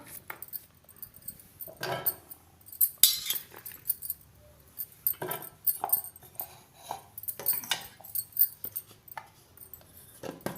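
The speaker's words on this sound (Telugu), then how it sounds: "వీటిని మనం ఇప్పుడు జార్లో వేసుకుందాం" Small hard pieces of cut gooseberry drop into a mixer jar with light clinks and clatters, irregular and close, with quiet rustling between.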